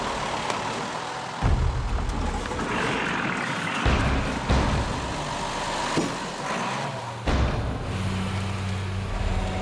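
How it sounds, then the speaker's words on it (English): Trucks grind along a muddy jungle road in Guyana, engines droning and revving close by, with jolts and clunks as they lurch through the mud. "The trucks head into the jungle."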